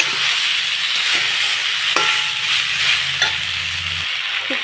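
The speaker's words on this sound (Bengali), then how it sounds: "নেড়ে চেড়ে ভালো করে কষিয়ে নিই।" Green tomato and dried shrimp stir-fry in a pan with a steady, close sizzle, broken by occasional soft scrapes and knocks of stirring.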